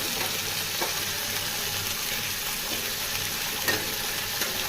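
Prawns frying in a pan for chili prawn, a steady dense sizzle with faint stirring scrapes running continuously throughout, close and moderately loud with no voices.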